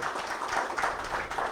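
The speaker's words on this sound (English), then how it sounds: "So I'd like everybody to please give another round of applause to Ken Hammontree." An audience at a talk on Dietrich Bonhoeffer applauds, a brief, steady patter of many hands clapping at moderate volume with no speech over it.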